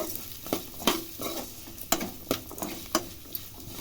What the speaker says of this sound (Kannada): ಹಾಗೆ ಕೊತ್ತಂಬರಿ ಕಾಳು ಹಾಕ್ತಾಯಿದ್ದೀವಿ ಚೆನ್ನಾಗಿ ಫ್ರೈ ಮಾಡ್ಕೊಳ್ಳಿ